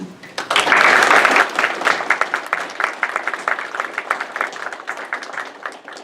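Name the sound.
city council meeting audience applauding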